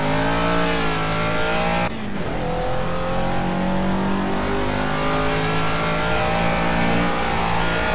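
Caterham Super Seven race car in Project CARS at Snetterton, its engine droning loud and steady with rising and falling revs as it drives, one brief dip in the roar near the start.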